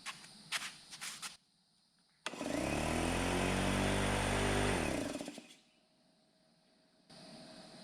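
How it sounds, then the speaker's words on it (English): A pancake air compressor strains to start on a portable BLUETTI EB70 power station, giving a loud, steady low motor drone for about three seconds that then cuts out, with some clatter before it and a quieter hum afterward. "if we try to start a Pancake compressor"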